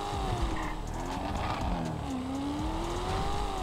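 A car engine drones steadily as it is driven in the GTA 5 video game with a real-life mod, the pitch shifting up and down over continuous road noise.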